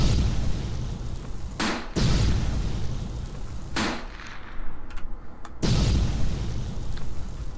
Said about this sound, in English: blow up some primal beasts with grenades, would you?